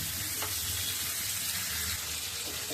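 Fish frying in a pan on a stove gives a continuous, even sizzle and crackle from close by, with no voices.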